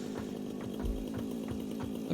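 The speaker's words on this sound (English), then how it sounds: "There's something quite badass about flying around with a jetpack while wielding a chainsaw." A chainsaw in the video game Satisfactory clears foliage, giving a steady, loud low engine drone with faint rhythmic pulses over the whole stretch.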